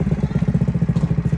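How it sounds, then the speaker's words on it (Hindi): A Bajaj Pulsar NS160 motorcycle with a fully custom modified exhaust idles close by, a loud, even, rapid thumping pulse with no talk. "फुल्ली कस्टम्ड एग्जॉस्ट है।"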